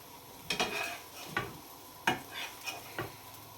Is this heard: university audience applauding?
no